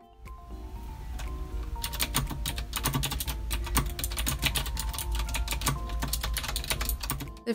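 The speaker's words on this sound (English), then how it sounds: "I love the clicky sound of the keys." Rapid, steady clicking of a lipstick typewriter-style mechanical gaming keyboard being typed on, crisp and close, continuing throughout with no voices.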